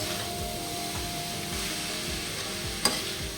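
Jackfruit curry with cashews is stirred in a pan, a soft scraping and sizzle close by, with one brief clink of the spoon against the pan near the end.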